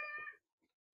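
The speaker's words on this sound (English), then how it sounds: "we have a cat." A house cat gives a single short, clear meow, close to the microphone, then a faint brief sound follows in a quiet room.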